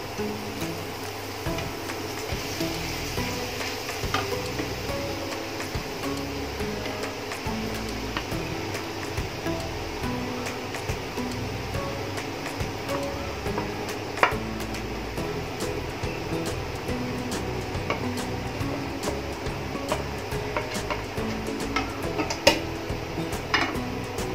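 Grated sweet potato frying in hot ghee in a pan, a steady sizzle running throughout with scattered clinks and scrapes of a utensil stirring against the pan.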